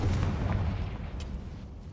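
In Hogwarts Legacy a Confringo blasting spell goes off as a deep, rumbling boom that fades into a low roar, with a few faint crackles over the decay.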